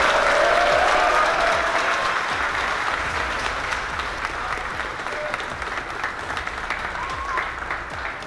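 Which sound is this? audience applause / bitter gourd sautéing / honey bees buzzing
audience applause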